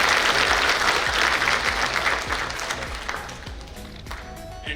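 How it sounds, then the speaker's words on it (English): A hall audience at a Google outreach event at a science city venue gives a big round of applause, loud and dense at first and gradually thinning, with a few sharp claps near the end. "I request all of you to give a big round of applause to the entire Google team."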